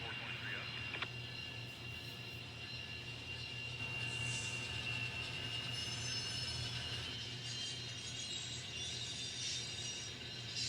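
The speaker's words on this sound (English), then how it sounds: "There's our BNSF with sound scale trains." An N scale BNSF model train fitted with a sound unit runs on a layout, giving a continuous close hum and rumble with faint squealing and mechanical ticking throughout.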